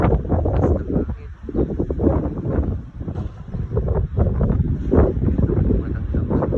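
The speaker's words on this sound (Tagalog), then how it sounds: "Lakas ng hangin." Strong wind buffets a microphone outdoors near date trees and bean plants, a heavy rumbling roar that surges and dips continuously, with a person's voice partly buried under the gusts.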